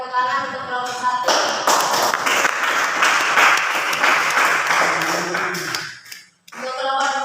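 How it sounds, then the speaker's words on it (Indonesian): Classroom applause for a student group after their presentation, a dense burst of many hands clapping that starts abruptly, holds for several seconds, then stops, with a voice talking before and after. "Berikan tepuk tangan untuk kelompok 1."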